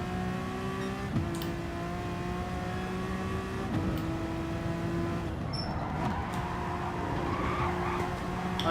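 Race car tyres sliding and skidding in the GT Sport racing game, a sustained engine drone with shifting harmonic tones and squealing slip noise running steadily throughout, with no talking.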